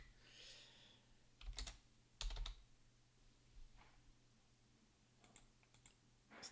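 Quiet typing on a computer keyboard at a game development desk, a few quick bursts of key clicks separated by pauses, soft and close with light background hum.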